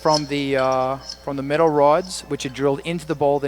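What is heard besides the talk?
No everyday noise stands out behind the speech.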